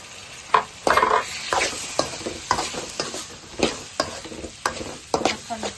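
Boiled potato and carrot pieces for pav bhaji are stirred in hot oil, with repeated sharp scrapes and knocks of a spoon against the pan over a soft sizzle, close and rhythmic, with no talking.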